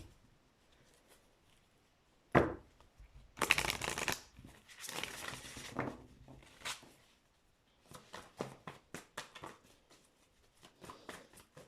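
Unicorn oracle cards being shuffled by hand: a sharp riffle, then bursts of card flicking and sliding, followed by quick repeated shuffling taps, close-up with no speech over it.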